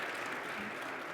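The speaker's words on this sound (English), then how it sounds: "Can we get a round of applause, please?" Audience applause at a retail industry conference session, a steady wash of clapping from a crowd filling the whole moment at even loudness.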